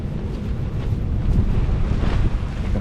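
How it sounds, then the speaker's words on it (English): A big gust of wind roars across the microphone at a coastal wild campsite by an ancient rock shelter in Ben Boyd National Park, a loud, buffeting low rumble that swells and holds. "Here comes a big gust of wind."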